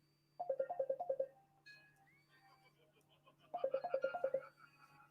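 A phone rings twice during a call-back, each ring a rapid trill of warbling electronic pulses about a second long, separated by a quiet gap with faint background tones and a steady low hum.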